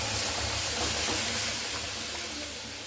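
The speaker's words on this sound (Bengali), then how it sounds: "ফোড়নটা দিয়ে একটু ভেজে নেব। দিয়ে দিচ্ছি সে ডালগুলো ঢেলে নেব।" Dal poured into hot oil with a spice tempering gives a loud, steady, close hiss of steam and sizzle that slowly eases toward the end, with no speech.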